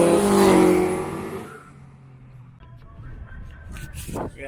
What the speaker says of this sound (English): Up next is a green Nissan 1400. It's on Hulk against a Mark II Fiesta or Escort.